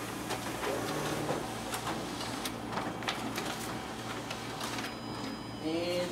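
A Xerox WorkCentre 5225 copier's document feeder running, a quiet mechanical whir with soft repeated clicks and sheet-feeding rustles, ending in a rising motor whine.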